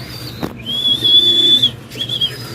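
Racing pigeons returning to their loft, with a few clear whistle-like tones and faint bird sounds close by, no talking.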